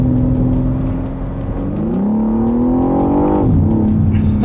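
A BMW M3 Touring, running with drive sent only to the rear wheels, accelerates hard in a loud, close engine note that climbs steadily in pitch, drops briefly at a gear change, then rises again.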